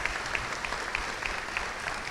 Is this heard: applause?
yes